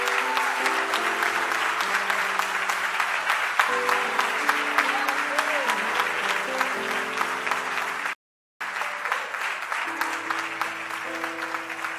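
A church congregation applauds together in steady, dense clapping that fills the space, with a brief silent gap partway through and music or voices faintly underneath.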